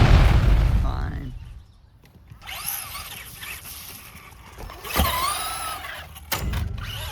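A Traxxas Slash RC car whines as it launches off a jump, its electric motor rising in pitch, then lands with a sharp thump and bounces with a second impact; people talk at the start.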